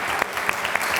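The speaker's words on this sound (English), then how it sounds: "can we have another round of applause and a big cheer for everyone that was nominated?" Audience at a community awards ceremony clapping steadily and densely throughout, a full sustained round of applause with no talk over it.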